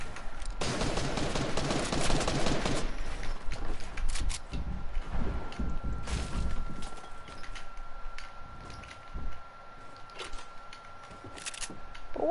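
Rapid SMG fire in a shooter game, with a loud, dense burst of shots early on, then scattered lighter shots and clicks beneath a faint steady tone.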